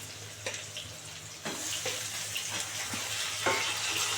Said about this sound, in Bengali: এবার এর মধ্যে দিয়ে দেবো টমেটোটা